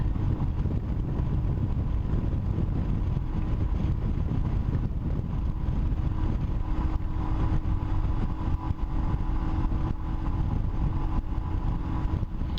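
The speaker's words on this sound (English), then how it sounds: "So the Royal Enfield Himalayan can just barely keep up with that bike." A Royal Enfield Himalayan motorcycle riding into town on a summer day, heard as a steady, loud rush of wind buffeting over a low engine rumble that continues without a break.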